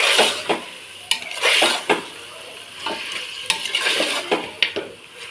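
Mutton pieces cooking in hot oil in a pan, with a steady sizzle broken by repeated scraping and stirring strokes and occasional clinks of a utensil against the metal, close and fairly loud.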